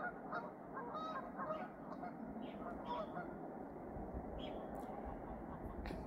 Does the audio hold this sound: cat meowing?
no